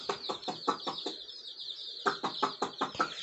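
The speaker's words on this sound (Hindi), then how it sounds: "ये चूज़े आए हैं जी, ये छोटे छोटे" Small chicks and chickens clucking, a rhythmic series of short clucks near at hand over a continuous high peeping from the chicks, with a short pause midway and no talk.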